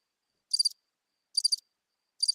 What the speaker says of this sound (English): I hope y'all hear them crickets.